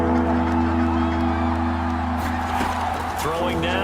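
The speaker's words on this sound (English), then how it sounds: "Crowd getting in it a bit already." Football stadium crowd at a Kansas City Chiefs versus New York Jets game roaring before a third down, a dense continuous swell of cheering with whoops, heard under loud play-by-play commentary.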